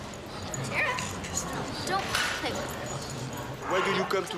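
Dogs in a dog-friendly restaurant in New York give short yips and whimpering barks in scattered bursts, mixed with voices and busy background chatter.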